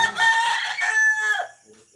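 A rooster crows once, loud and close, in a long drawn-out call that trails off into quieter clucking and faint background sounds.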